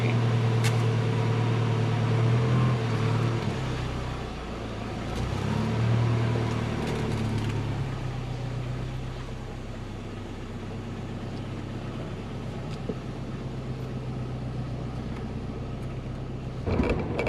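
A 1990 Saab 900 Turbo convertible's four-cylinder engine idles close by, a steady low drone with a faint whine above it that holds evenly throughout, with no talking.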